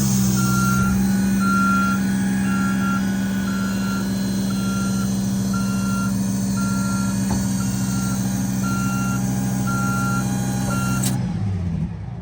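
Thibault fire ladder truck running with its engine throttled up while the outriggers deploy, a steady diesel drone under a loud, regular reversing-style warning beep that stops abruptly near the end.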